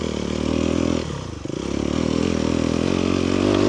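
Aprilia RX125 motorcycle held at full throttle on a forest enduro trail, a loud, close, buzzing single-cylinder drone that dips briefly in the middle and then climbs back to a steady high rev.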